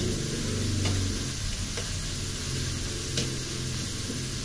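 Pork browning in a hot pan gives a steady, close sizzle with faint crackles and occasional light ticks, continuous and even with no talking.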